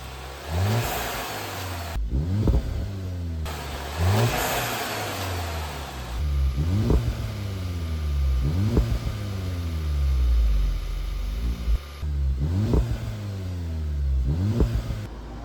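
The 2-litre TSI engine of a VW Golf 7 GTI with an overheating problem revs up and falls back again and again, about six close, loud rises over a steady idle, with no voices.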